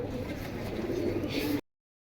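Pigeons cooing in cages at a pigeon sale, low soft rolling coos running continuously for a moment before cutting off abruptly.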